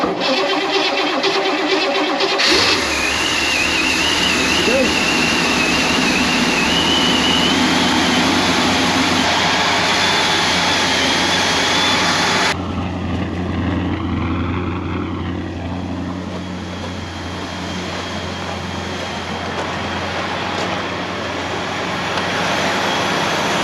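Engine of an old GMC motorhome running steadily on a newly installed fuel pump, a loud continuous drone with an added high whine early on that drops away midway, no talk over it.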